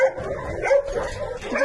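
A small, thin rescued dog gives short, high yips and whimpering barks close by, with a constant background hum and no talking.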